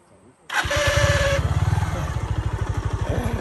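A motorcycle engine is started after a brief quiet moment, then settles into a fast, even idle putter close by, with rhythmic pulses continuing to the end.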